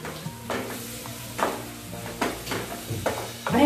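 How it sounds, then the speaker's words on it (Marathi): Chopped tomato and onion sautéing in a pan for shell masala give a soft, steady sizzle, broken by repeated scraping strokes of a spoon stirring them at a regular pace. "आणि हा टोमॅटो आपल्याला मऊ होईपर्यंत व्यवस्थित या कांद्यासोबत परतून घ्यायचा आहे"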